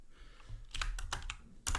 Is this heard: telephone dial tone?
no